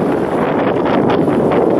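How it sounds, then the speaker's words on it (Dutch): Strong wind buffets the microphone on a boat sailing through Amsterdam at night, a loud rumbling gusty rush over a short stretch with no talk. "Het waait weer knetterhard natuurlijk"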